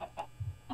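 A chick in a video game gives a few short, high chirps in quick succession, close and fairly soft, with no one talking.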